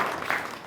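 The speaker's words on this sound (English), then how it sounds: "Should we have a round of applause for the piano" A short burst of applause and clapping for the piano during a talk on ragtime music, steady and moderately loud for the whole moment, with nobody speaking over it.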